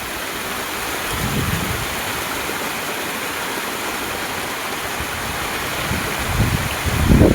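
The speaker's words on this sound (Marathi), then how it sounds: "इथं पूर्ण छोटे छोटे धबधबे वाव राहिले" Small village waterfalls and streams rush in monsoon rain, a loud, steady, broadband roar of flowing water with gusts of wind buffeting the microphone toward the end, no voices.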